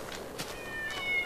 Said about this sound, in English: Hey, look, little kitties.